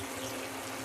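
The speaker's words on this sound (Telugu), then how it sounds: "కొద్దిగా నీళ్ళు పోసి పెట్టేయాలండి." Water poured into a pan of brinjal and tomato curry, a brief, dense rush of liquid that fills the whole short moment without pause.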